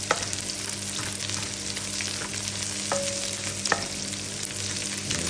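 Sliced onion sizzles and fries in a hot pan with garlic already cooked in it, a steady close crackle with brief stirring scrapes and a faint tonal beep partway through.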